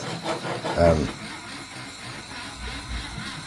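A ceramic burr grinds the inside of a torque bangle, a close, rough whirring rasp that is strongest at first and then eases to a softer buzzing, with someone talking over it.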